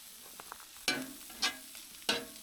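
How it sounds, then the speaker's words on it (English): Green cabbage and buckwheat stirred in a frying pan with shallots: a low steady sizzle beneath three sharp scraping strokes of a utensil across the pan, spaced about half a second apart. "Mix it all, bring in the buckwheat, mix it all together"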